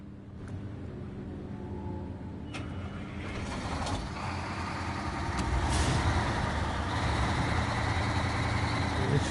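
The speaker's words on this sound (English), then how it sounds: "She's got a meaty sounding engine." Heavy truck engine in the Snowrunner video game, a deep, meaty rumble that swells gradually louder and holds steady, with a few faint clicks on top.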